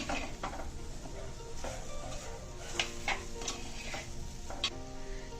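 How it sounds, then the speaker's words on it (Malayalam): Potatoes sauté in a pan with a soft, continuous sizzle, broken by sharp ticks and scrapes as a spatula stirs them. The sound is faint and close, with no speech. "ഉരുളക്കിഴങ്ങ് ഒന്ന് നന്നായിട്ട് വഴറ്റിയെടുക്കുവാണ്"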